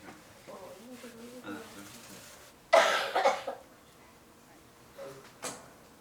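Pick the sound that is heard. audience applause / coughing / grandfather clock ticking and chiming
coughing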